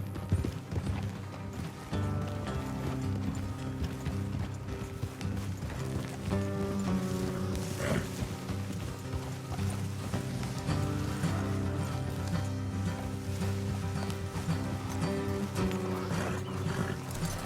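Steady clip-clop of horse hooves at a walking pace in Red Dead Redemption 2, over a dense, continuous bed of music and ambience, moderately loud throughout.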